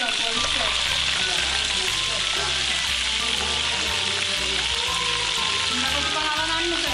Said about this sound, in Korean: 닭새우는 그대로 튀겨서 요리하는데요.